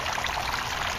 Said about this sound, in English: Now with this aerator bar, as you can see, that's how the water gets into the grow beds.